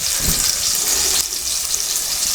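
Snack frying in a home pan, a steady hiss of sizzling oil that stays even throughout, with a brief low bump near the start.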